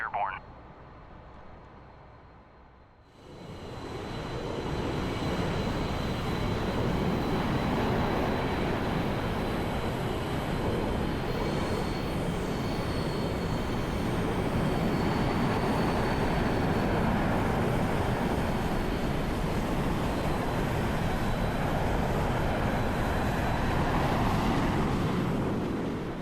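An F-14B fighter jet in DCS World takes off, its engines a loud, steady broadband roar that swells sharply after a quiet start and stays heavy and sustained throughout, with a faint high whine on top.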